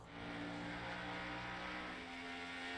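Race car engines scream steadily in a sim racing game, with a loud, sustained high-pitched drone of several cars at speed that stays close and continuous.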